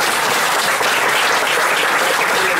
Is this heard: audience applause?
yes